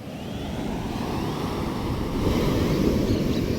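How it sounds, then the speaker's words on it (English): Big rolling ocean waves surge and wash continuously in a broad, steady roar, with wind buffeting the microphone and the swell building slightly toward the end. "look at how beautiful those big rolling waves are"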